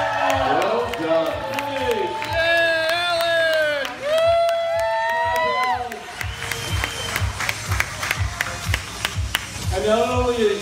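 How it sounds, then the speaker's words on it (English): Crowd at a comic con costume contest clapping and cheering for a medieval Batman costume, loud clustered applause with whoops, mixed with an announcer talking over it. "give him an applause, Marilyn"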